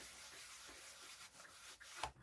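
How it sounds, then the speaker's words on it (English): A rubber stamp rubbed back and forth on a surface, a soft continuous close scraping with a brief sharper knock near the end. "Rub it around a bit."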